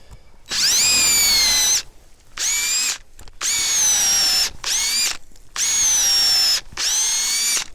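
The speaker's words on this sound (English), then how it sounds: "whenever I'm drilling the holes, I'm cleaning the hole out." A power drill whines in six separate bursts, the bit running in and out of a maple tree to tap sap, each burst steady and close with short pauses between.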